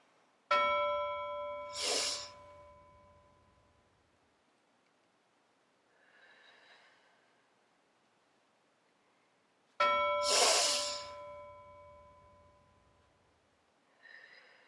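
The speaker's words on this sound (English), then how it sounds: "Let's listen for the bell, and that'll tell us when to breathe in big" A bright bell rings twice, several seconds apart, each strike clear and ringing out slowly in a quiet space, with soft faint sounds between.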